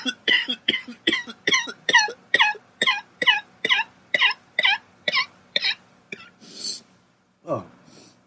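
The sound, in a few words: person coughing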